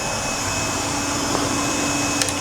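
Motors of an FPV jet pack drone armed and running on the ground, giving a steady, loud whirring drone that stays even throughout, with no talking over it.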